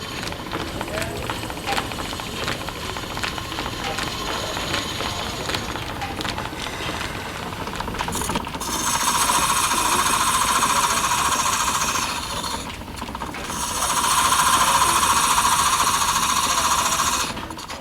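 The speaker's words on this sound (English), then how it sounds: "there's always the lathe, 160 years on, still driven by the Victorian line shafting" A Victorian lathe at Coombe Mill, still driven by its 160-year-old line shafting, rattles and hums continuously, with belts and machinery swelling louder at intervals while people talk nearby.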